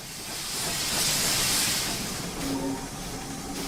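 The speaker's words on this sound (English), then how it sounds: "Another Grange roaring past there." A GWR Grange steam locomotive in Train Simulator Classic roars past with a broad, loud hiss of steam that swells to a peak midway and then eases, with a brief tonal whistle-like note near the end.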